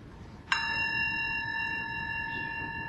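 A meditation bell struck once closes a Buddhist mindfulness sitting, a sharp strike followed by a long, clear, sustained ring with steady overtones that lingers to the end.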